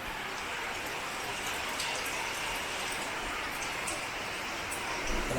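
Heavy rain pours down steadily in a Konkan village, a dense continuous hiss of falling water with no voices, slightly louder at the very end.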